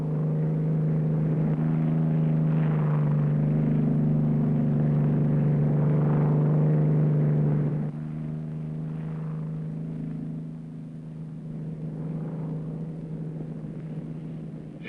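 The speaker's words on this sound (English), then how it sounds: "the Viking aircraft of the Queen's flight came in." A Viking aircraft of the Queen's Flight comes in to land in northern Nigeria, a loud steady propeller-engine drone with a strong low hum that drops slightly in level halfway through and carries on without speech.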